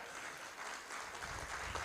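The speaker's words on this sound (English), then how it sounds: "Give a big clap." Faint, distant clapping from an audience at a live music meditation summit forms a soft, even patter that swells slightly toward the end of a brief moment.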